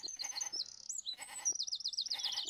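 Sheep bleating in the Sega CD strategy game PowerMonger: repeated bleats over the game's synthesized music.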